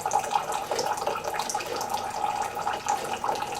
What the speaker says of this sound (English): now we're going to do just a 4 ounce to show you how fast it puts out the water